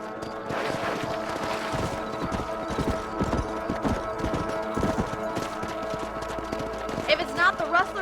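Horse hooves clop in a steady, galloping rhythm as a rider patrols a ranch property in the video game Red Dead Redemption, heard close and continuous with a voice and background music layered over them.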